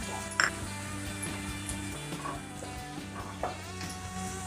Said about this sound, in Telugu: ఇప్పుడు పసుపు వేసుకొని కలుపుకోవాలి.